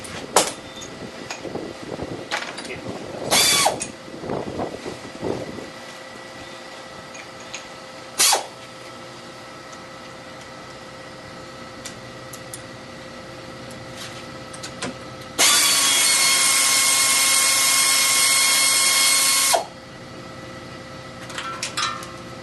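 A ratchet working oil pan bolts on a car engine, with a few sharp metallic clicks and clanks early on, then a steady loud whirring burst of about four seconds before quieter clinks.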